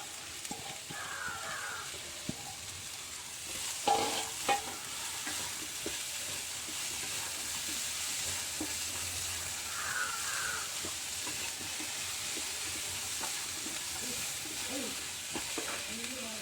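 Finely chopped onion frying in a pan for an okra and potato curry, with a steady low sizzle, occasional stirring scrapes and clinks, and faint bird chirps in the background.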